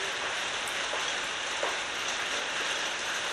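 Heavy rain drums steadily on surfaces close by, a dense continuous hiss without breaks.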